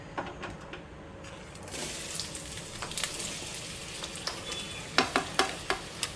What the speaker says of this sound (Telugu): నూనె వేడెక్కిన కదా ఉల్లిపాయలు పచ్చిమిర్చి వేసేస్తున్నాను